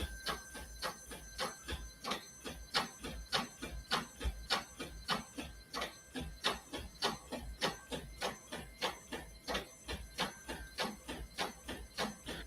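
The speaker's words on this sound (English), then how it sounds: "So we could leave the lid open and show you it printing." An Uninet iColor 250 printer runs with its lid open, giving off a steady, rapid mechanical clatter of evenly spaced pulses, close and moderately loud throughout.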